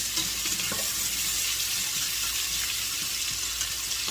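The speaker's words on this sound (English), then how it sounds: "Scrape that pan every now and then to get that yummy bacon, yummy goodness off the bottom" Bacon bits scraped off the bottom of a hot pan during cooking for a grilled corn chowder, with a steady close sizzle and a few faint scraping strokes; no talking.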